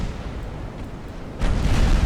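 In the naval battle game Ultimate Admiral: Dreadnoughts, a deep booming explosion bursts out of a constant low rumble of battle, swelling loud and lingering to the end.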